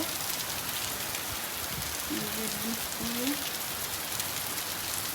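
Steady heavy rain hisses across the whole clip, with a faint tonal sound briefly rising in the middle.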